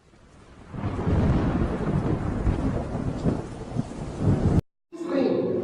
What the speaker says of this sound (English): Behind me, waves are raging so high that the water is almost as close as where we are.